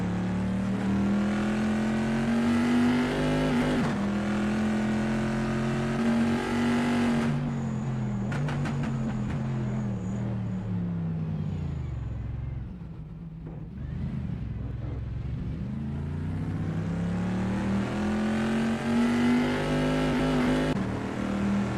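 A Bizzarrini race car powering through the Piratella corner at Imola in pre-1973 vintage racing, its engine a loud, steady drone that dips as it slows and then climbs again, heard close and continuous.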